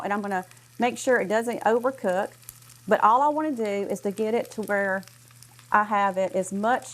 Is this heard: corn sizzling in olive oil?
yes